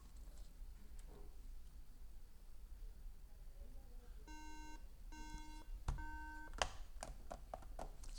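A MacBook Air with a RAM fault sounds its three-beep error code, three short electronic beeps in a row, followed by a few faint clicks and taps, all fairly quiet.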